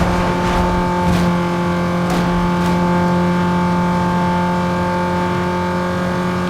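Car engine revving in a drag race in the video game Need for Speed Underground 2, a loud sustained engine drone with steady tonal whine and a few brief bursts near the start.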